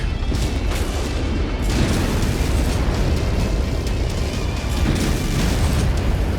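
An artillery strike pounds a painted target in MechWarrior 5, played in VR: loud, continuous rumbling booms with repeated heavy impacts rolling through the whole stretch, no talking.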